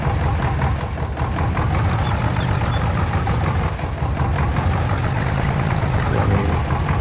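A tractor engine running steadily in Farming Simulator 22, a loud, continuous low rumble near at hand with a constant drone and no speech over it.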